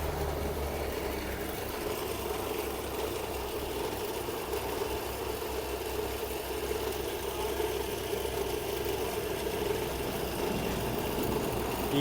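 A homemade DIY free-energy generator machine runs steadily throughout, a continuous mid-pitched motor hum with a low, even vibration and no pauses.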